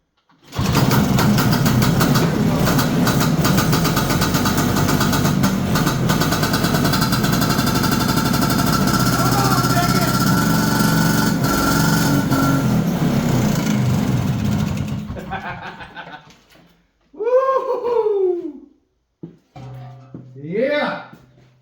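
Ski-Doo Elan snowmobile engine, just through a top end rebuild, runs loud and close with a buzzy two-stroke drone for about fifteen seconds, then cuts out, followed by talking.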